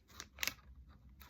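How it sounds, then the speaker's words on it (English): Scissors snipping through paper at a planner conference swag unboxing, a few sharp close cuts in quick bursts with quiet gaps between them. "Paper cutting"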